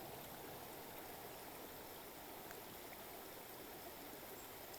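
Steady, soft running water flows without a break, a quiet continuous stream-like trickle close by with no voices.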